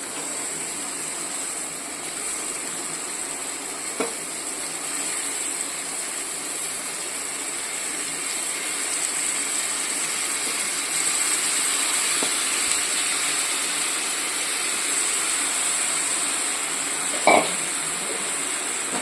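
Squid frying in hot oil for a squid masala, a steady high hiss of sizzling that continues evenly throughout, with faint clicks and knocks from the pan and no talk.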